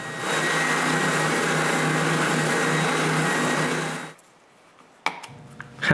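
A power tool enlarging a hole in wood in a workshop, a loud steady whirring drone for about four seconds that stops abruptly, followed by a few knocks and handling clatter.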